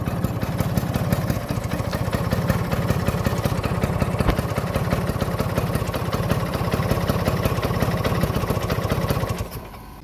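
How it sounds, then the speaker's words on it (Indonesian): A 1987 Vespa Excel MK1 scooter engine idles steadily and close by, its even, rapid putter running unbroken for about nine seconds before cutting off near the end. "Ngetuk banget, masih cihui banget mesinnya, langsamnya masih enak."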